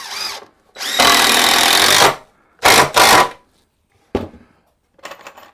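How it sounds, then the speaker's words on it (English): A power drill drives 3-inch screws into wood boards, loud whirring bursts of about one second and shorter, the motor spinning up and stopping between screws, close and without talk. "I'm going to put about 4 screws in here."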